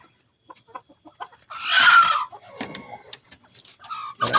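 Native chickens cluck in a series of short, close calls, with a louder burst of squawking in the middle and scattered clucks continuing around it.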